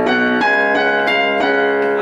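Piano plays a short passage from a song, with sustained notes struck in a steady rhythm, close and clear with no talking.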